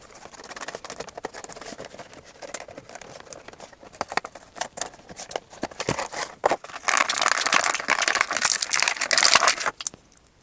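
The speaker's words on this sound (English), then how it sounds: "Now let's get on and open this card and see what the figure looks like." A toy figure's cardboard blister card being opened, with close crinkling, tearing and rustling of plastic and card that grows louder and denser toward the end.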